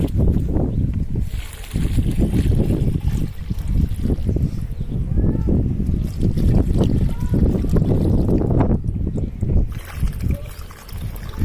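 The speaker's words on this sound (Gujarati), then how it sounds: "ચાલો આપણે પાણી નાખી દઈએ મસ્ત મજાનું." Water is poured over newly planted dragon fruit plants, making a loud, continuous splashing gush that runs for the whole stretch, with a short lull near the start. Voices talk faintly beneath it.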